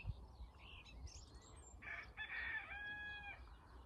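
Roosters crowing on a rural property, a faint distant cock-a-doodle-doo with clucking fowl over a low background rumble.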